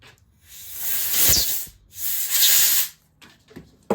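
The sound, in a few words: air compressor blowing debris out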